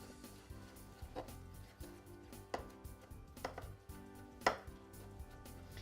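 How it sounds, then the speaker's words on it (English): A knife chops a red pepper on a cutting board in faint, irregular strikes, a few sharper cuts standing out over a quiet kitchen background. "I'm gonna cut a red pepper and get that in the pan"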